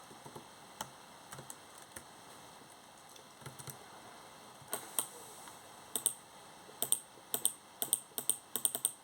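Sparse keyboard clicks tap out irregularly, then speed up into a quicker burst of typing, close and fairly faint in a quiet room.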